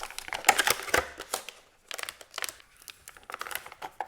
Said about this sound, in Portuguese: Vamos para a retirada de mais Durex.